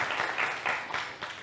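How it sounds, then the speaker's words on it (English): Short burst of applause from the audience at a quantum simulation talk as a speaker is introduced, a few loose waves of clapping fading quickly. "Applause."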